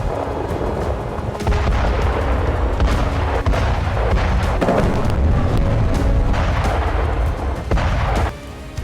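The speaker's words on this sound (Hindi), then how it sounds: "यहीं पर सैकड़ों टन वजनी एटम बमों की टेस्टिंग होती है।" An atomic bomb test explosion sends out a loud, sustained roar and rumble with crackling bursts for several seconds, dense and heavy before it eases slightly near the end.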